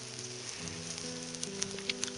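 Bass and pike fillets cook over a lakeside campfire, giving a quiet steady sizzle with scattered small pops and crackles. A low hum runs underneath and no one speaks.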